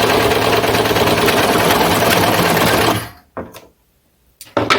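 A serger sewing machine fitted with a gathering foot runs at speed, stitching and gathering fabric in a dense, rapid mechanical whir, then stops, leaving a few short bursts of running.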